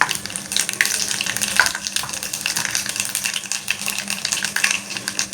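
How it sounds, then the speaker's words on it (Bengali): Nigella seeds hit hot oil in a pan while cooking a Bengali hilsa fish curry with potatoes, giving a steady, bright hiss and crackle with scattered sharp pops throughout, close and moderately loud. "তেল গরম হয়ে গেছে বন্ধুরা, দিয়ে দিচ্ছি কালো জিরে"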